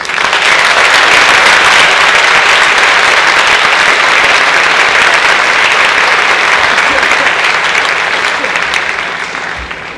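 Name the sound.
audience applause at awards ceremony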